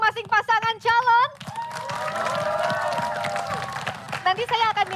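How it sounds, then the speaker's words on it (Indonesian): A studio audience claps and cheers for about three seconds at a 2024 Indonesian presidential debate, with a host talking before and after the burst. "tepuk tangannya boleh"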